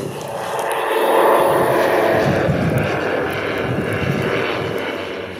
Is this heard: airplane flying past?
yes